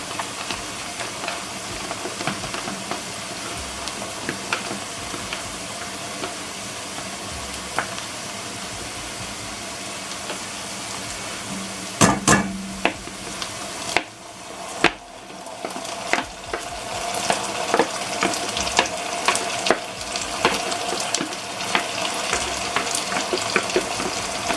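Onion leaves and tomato stirred and frying in a pot for okra soup, producing a steady close hiss of sizzling with repeated spoon scrapes and knocks, a brief quieter stretch midway, then louder frying, no speech.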